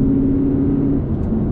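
Cupra plug-in hybrid's little 1.4-litre turbo engine thrumming steadily from inside the car as it pulls, a low even drone with a faint tonal whine and no talking.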